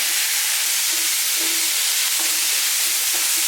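Scallion, ginger, garlic and Sichuan pepper sizzle steadily in a hot wok while spicy fish is being cooked, a loud, continuous close-up hiss and crackle with no talking.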